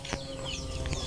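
Chickens on a Philippine farm cluck softly in short, scattered calls that stay faint against a steady outdoor background, with no talk over them.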